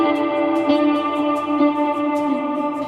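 Electric guitar plays the second part of the interlude at a slow tempo, with effects and reverb. Evenly spaced plucked notes ring out over a sustained tone, with no voices.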